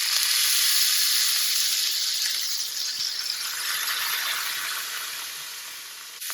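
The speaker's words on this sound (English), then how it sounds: "We are going to let these guys sear for 2 minutes on each side of the steak." Ribeye steaks searing in a hot pan over medium-high heat, a steady loud hiss and sizzle that thins slightly toward the end, with no voices.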